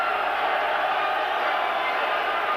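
A big, noisy football stadium crowd at the 1993 Club Brugge v Rangers match keeps up a steady, dense roar for the whole stretch, with no break or lull.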